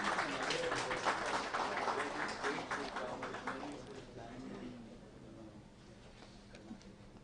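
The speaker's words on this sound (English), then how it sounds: "Please welcome the Joint Secretary with a round of applause." Applause greets a Joint Secretary of the Ministry of Panchayati Raj at a government conference, a dense wash of clapping from a seated audience that starts strong and slowly fades away over several seconds.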